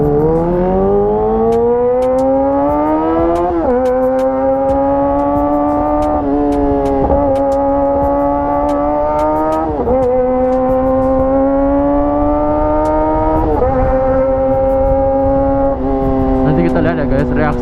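A Kawasaki ZX-25RR revs hard and close, its high-pitched inline-four wail climbing and dipping in repeated surges as the throttle opens, loud and sustained with other sounds mixed in around it.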